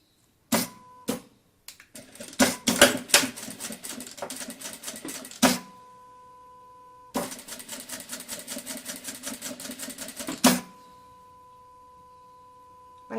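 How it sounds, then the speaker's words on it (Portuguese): A sewing machine stitches one side of a fabric bucket bag, running in two fast rattling stretches with short pauses and a soft hum between them. "Eu vou costurar um lado só, tá bom?"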